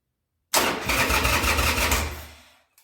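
A 2000 Harley Sportster 1200C fires up after a short silence and catches into a loud, close, lumpy rumble that runs for about two seconds before dying away, with a faint brief sputter at the end.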